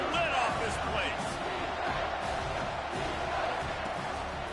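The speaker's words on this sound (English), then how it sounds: "this crowd is tearing the lid off this place." A football stadium crowd roars on a third down, a loud, sustained wall of cheering and noise with no break.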